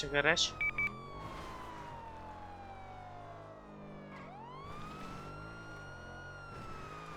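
A police car siren in a video game (GTA 5) wails in a rising and falling pattern, loud and close, following a short burst of electronic yelp tones at the start.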